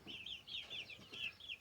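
Young chicks in a brooder pen give a steady run of high, bright peeps and short chirps, about a dozen quick calls with no talking over them.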